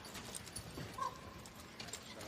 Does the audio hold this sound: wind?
no